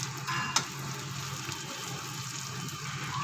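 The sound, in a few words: cumin seeds added to frying pan, sizzling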